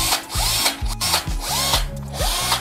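A Bosch GSB 120 Li cordless drill runs at speed 2 with a loud, close whine that pulses repeatedly as the trigger is squeezed and eased, with a rhythmic ratcheting edge.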